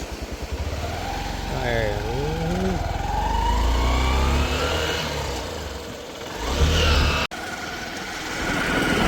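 A motorcycle engine hums and revs steadily nearby as it rides along a beach path, with voices talking over the engine noise.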